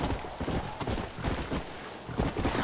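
Steady clip-clop of horse hooves at a trot in the video game Red Dead Redemption, fairly close, over a soft windy background.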